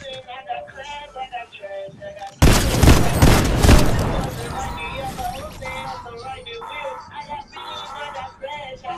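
Fortnite gunfire erupts as a loud, dense burst of rapid shots lasting about a second and a half, then drops away while people keep chatting before and after.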